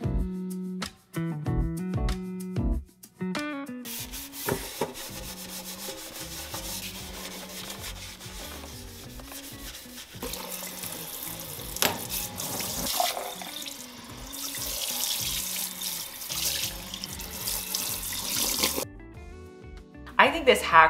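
A kitchen sink is scrubbed with limes and baking soda, giving close rubbing and scouring strokes, followed by running tap water rinsing the basin, with a voice talking over parts of it.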